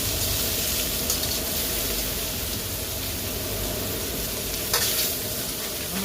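Garlic noodles with red rock crab sizzle steadily in a hot pan as they are stirred and pulled apart, a dense, continuous hiss with a few soft scraping bumps and no talking.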